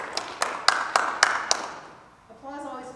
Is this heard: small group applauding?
yes